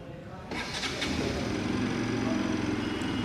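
After a brief quiet, a 2025 Bajaj Pulsar RS200 motorcycle engine cold-starts, cranking and catching, settling into a steady, throbbing run close by.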